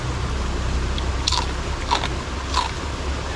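Crunchy bites into crispy fried pork knuckle (crispy pata), three distinct crackling crunches spaced about a second apart, close and clear over quiet room noise.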